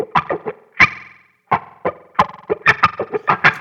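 Electric guitar recorded through a Kemper amp rig with effects printed in, a quick run of distorted picked notes and short bursts with echo, loud and close, one brief pause before the phrase continues.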